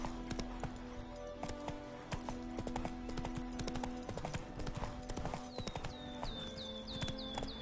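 Hooves of Roach, the horse in The Witcher 3, clop in a steady galloping rhythm. Game music and ambience run underneath, and faint chirping sounds rise near the end.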